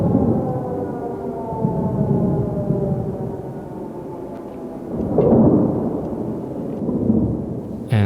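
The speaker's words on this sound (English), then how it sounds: "Then the explosions start." A deep rumbling boom from rocket shelling at night in Kyiv rolls in around the middle, swelling then fading over a steady low droning background, with a wailing tone throughout. No talking.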